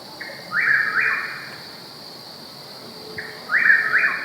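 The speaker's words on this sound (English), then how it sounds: "So both of those names are references to the call that the bird makes." Nightjar calling in two separate bouncy, whistled bursts, one early and one near the end, each a quick warbling trill that rises in loudness; clear and fairly close, with no voices.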